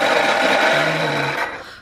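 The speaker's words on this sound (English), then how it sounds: "This is our Hoover at the moment." A Hoover vacuum cleaner with a worn motor bearing runs steadily and loudly up close, giving a broad rough whirring roar with a brief lower tonal hum partway through before the noise begins to tail off.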